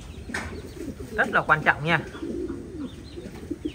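American giant runt pigeons coo inside a cage, with a close burst of rolling, throaty cooing in the middle and a person talking in Vietnamese through the rest.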